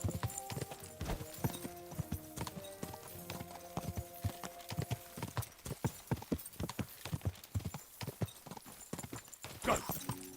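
Rapid, rhythmic hoofbeats of a galloping horse in a video game, steady clip-clop throughout with a brief whinny-like sound near the end, moderately quiet.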